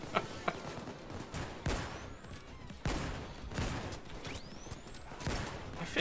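Gunfire in the heist video game Payday 2, including shotgun blasts, with sharp repeated shots and bursts at close range over a busy game soundscape, and no clear talk.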